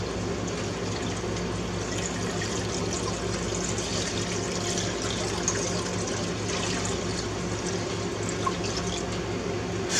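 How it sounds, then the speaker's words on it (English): Seven cups of water poured into a pot for pickle brine, a steady continuous splashing and trickling stream, moderately loud and unbroken. "then we're going to add 7 cups of water"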